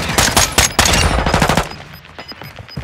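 Rapid bursts of automatic fire from a gold Fennec 45 (Vector) submachine gun in Call of Duty: Modern Warfare II, loud and close, several quick strings of shots that stop abruptly and give way to a quieter game background.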